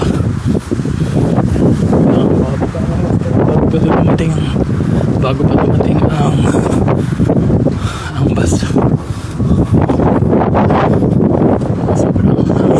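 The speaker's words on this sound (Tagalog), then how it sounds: "Sobrang hangin." Strong wind roars and buffets steadily across the microphone outdoors in Hal Balzan, Malta, with a person talking briefly underneath the gusts.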